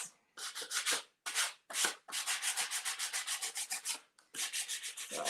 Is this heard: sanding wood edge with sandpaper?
yes